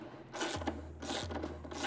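A 10 by 1.5 thread tap turning through the bolt hole of a new motorcycle subframe, cleaning up nicked threads: close metallic ratcheting and grinding in two bursts with a steady low hum beneath, no talking.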